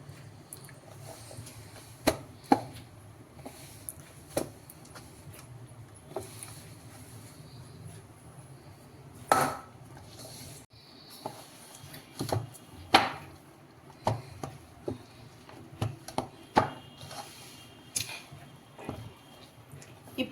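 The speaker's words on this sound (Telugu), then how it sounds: "పిండిని నేను కలిపి చూపిస్తాను మీకు." Badusha dough is mixed by hand, giving scattered soft thumps, slaps and squishy knocks at an irregular pace over a quiet background.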